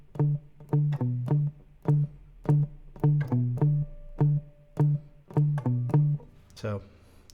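Electric guitar plays short plucked notes in a looping phrase, each echoed by a dotted-eighth tap-tempo delay that gives a bouncing, rhythmic repeat, close and moderately loud, ending with a brief scrape.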